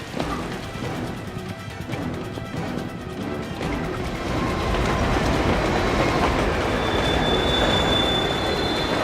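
Monorail train in the Batman Begins video game rumbling and clattering along its track, a steady loud rolling rail noise that builds and thickens midway, with a thin high metallic whine appearing later.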